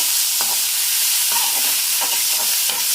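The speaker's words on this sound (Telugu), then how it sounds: "టమాటో ఆనియన్స్ కరివేపాకు వీటన్నిటిని వేసుకొని కొద్దిగా ఫ్రై అయ్యే వరకు వేగనివ్వాలి" Tomato, onion and curry leaves fry in a pan with a bright, constant hiss of sizzling oil, broken by several soft stirring strokes at irregular intervals, up close and without talk.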